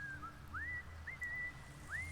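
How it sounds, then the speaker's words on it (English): Faint whistled sea shanty from the video game Baldur's Gate 3: a few soft rising and gliding whistled notes over a low background hum. "The sea shanty whistling makes this perfect too."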